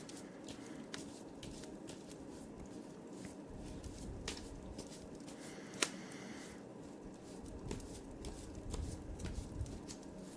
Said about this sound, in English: Just giving it a good shuffle here.